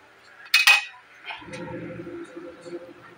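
A metal lid clanks down onto a cooking pan while crunchy pork fries in oil, a sharp bright clatter followed by a steady low sizzle rising underneath.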